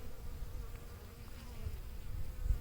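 Bees in an open beehive, a faint continuous low buzzing hum that holds steady, with soft handling bumps near the end and no talking.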